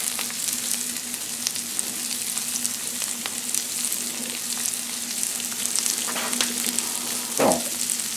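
Steady, close sizzle of shrimp frying on a Blackstone griddle, with a few faint clinks and one louder scrape near the end, no voices.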